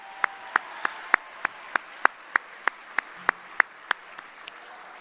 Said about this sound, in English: please join me in giving a round of applause for Ernest